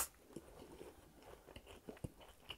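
Someone eats a McDonald's BBQ bacon Quarter Pounder burger, with soft bites and chewing that give irregular, faint, close crunches and mouth sounds over a few seconds.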